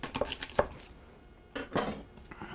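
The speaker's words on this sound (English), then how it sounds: "So I have a couple of large cloves of garlic here. I'm going to give these a good crush." Large garlic cloves being crushed on a kitchen board for a pork and peppers dish, giving a few sharp knocks and cracks in two bursts with clattering between, close and fairly quiet, with no talking.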